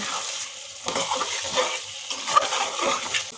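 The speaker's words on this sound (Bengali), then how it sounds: "এবার আমরা আবার নেড়ে ছেড়ে নেব" Beef kala bhuna stirred in a pan, a spoon scraping through thick sizzling meat in repeated rough strokes, close and clear with a continuous frying hiss underneath.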